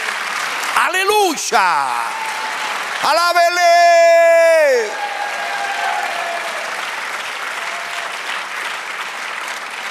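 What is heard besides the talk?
congregation applauding in church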